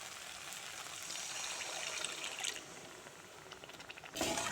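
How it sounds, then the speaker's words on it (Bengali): Water poured into a pan of fried mustard spices while cooking a small-fish mourola oil-chili curry, giving a steady close pouring and bubbling rush that swells and ends with a brief louder splash. "এখন দিয়ে দেব পরিমাণ মতো জল"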